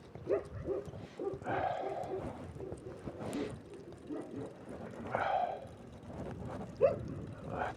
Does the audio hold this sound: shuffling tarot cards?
no